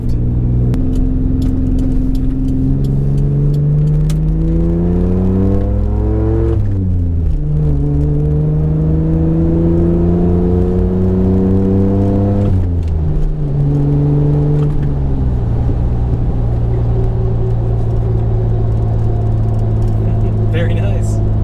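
Mitsubishi Pajero with a new full exhaust and throttle body revs up loudly and repeatedly, the engine note rising and falling in long sweeping pulls, heard close and clear on its own.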